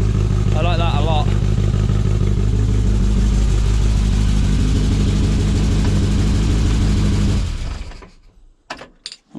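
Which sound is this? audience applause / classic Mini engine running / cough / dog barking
classic Mini engine running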